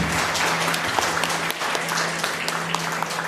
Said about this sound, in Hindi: उस परमेश्वर के लिए एक बार ताली तो बजा दो।